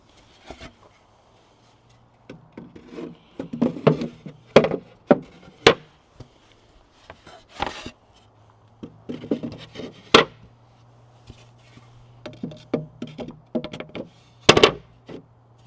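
Wooden inserts are popped into place on a Yaheetech raised garden bed, producing clusters of close knocks, taps, thunks and rubbing scrapes in uneven bursts with quiet gaps and a low steady hum beneath, with no talk.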